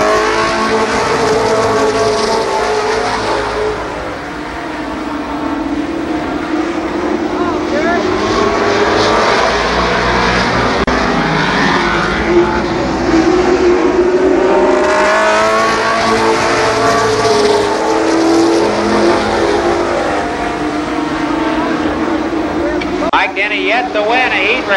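Late model race cars roaring around Columbus Motor Speedway during a heat race, a loud continuous engine drone with cars passing and revving, sustained throughout without a break.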